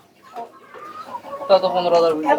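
Chickens clucking close by on a poultry farm in short, bright bursts that grow busier toward the end.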